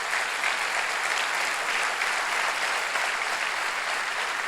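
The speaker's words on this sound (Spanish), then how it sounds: "Si vas a dar un aplauso al Señor, hacelo con ganas" Steady, dense applause from a large church congregation fills the whole stretch, loud and sustained without a break.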